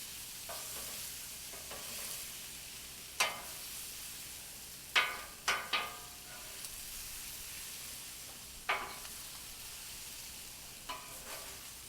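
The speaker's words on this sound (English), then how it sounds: "We're going to mix it all in" Meat and softened vegetables are stirred together in a hot frying pan, a steady sizzle with several sharp scraping clacks of a utensil against the pan at irregular intervals.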